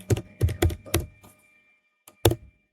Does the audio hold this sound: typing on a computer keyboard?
yes